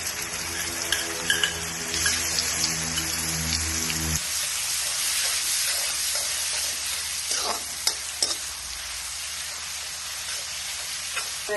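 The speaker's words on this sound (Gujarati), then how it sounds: "તેલ આવી જાય એટલે જીરું નાખશું થોડું, મરચાં નાખી" Cumin seeds and chillies sizzle and crackle steadily in hot oil for peas kachori filling, a close, continuous frying hiss with a few sharp pops and no talking.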